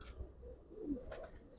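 A male pigeon kept in a cage gives a soft, low coo, faint and close, with a brief rising call near the end against quiet surroundings.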